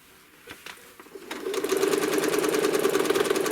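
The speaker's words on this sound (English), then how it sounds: "I'm going to put it here on the line, and I'm going to stitch down." A home sewing machine stitches along a curved ruler, starting with a few faint clicks before settling into a steady, close, fast-running whir with a busy needle rhythm.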